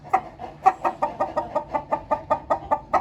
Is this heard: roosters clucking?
yes